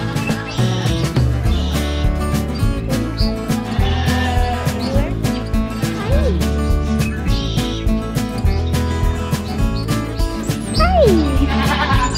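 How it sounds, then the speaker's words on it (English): Goats on a farm bleat repeatedly among sheep and an emu, their calls rising over steady background music, with a person's voice briefly heard. "Hey, goats."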